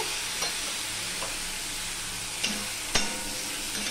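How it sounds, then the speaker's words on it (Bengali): Singhi fish, stinging catfish, fry lightly in oil with a dense continuous sizzle, broken by a few sharp clicks and taps of a utensil against the pan, close and steady with no voices. "মাছগুলো বেশি ভাজবো না, এটা শিঙি মাছ, বেশি ভাজলে ভালো লাগবে না, হালকা করেই ভেজে নেব।"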